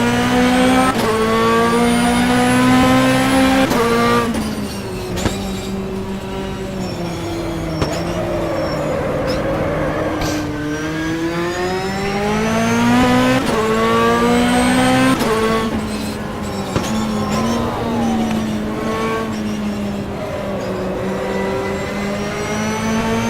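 A GT2 race car roars around Mondello Park in the rFactor racing sim, its engine note steadily climbing and dropping through gear changes and corners, loud and continuous with no voices.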